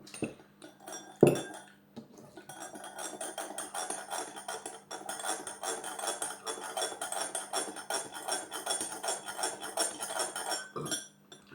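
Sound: spoon scraping sugar from bottom of mug

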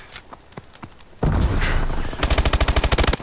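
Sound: automatic turret gunfire in a video game

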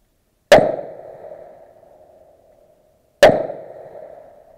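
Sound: gunshots at steel targets, cowboy action shooting

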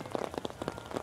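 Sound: sleet, hail-mixed rain falling

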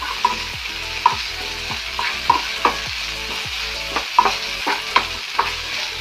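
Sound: sautéing chopped green chillies and tomato in a pan

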